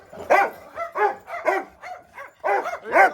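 Excited dogs bark eagerly before a morning walk on a farm, a rapid run of loud, close yips and woofs with short gaps between them and no talking.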